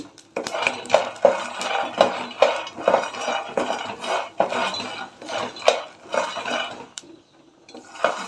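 Sago pearls roast in a pan while a utensil stirs them, producing rhythmic scraping and light clinking strokes roughly every half second, close and moderately loud with no talking, before the stirring stops.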